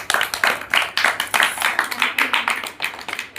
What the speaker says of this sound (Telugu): ఇప్పుడు క్లాప్స్.